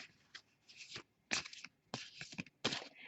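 A narrow tarot deck being shuffled by hand at close range, quiet papery riffles and slides coming in four or five short bursts with brief pauses between, no talking.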